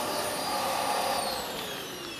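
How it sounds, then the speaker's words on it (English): A Hoover Globe GL1110 upright vacuum cleaner runs alone with a steady, fairly faint motor whine and airy rush. "We couldn't tell because I had the Hoover going."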